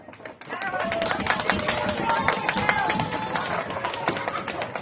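A group of children at a vacation Bible school claps hands and pats laps together, a dense, steady rumble of slaps and claps filling the room to imitate an earthquake.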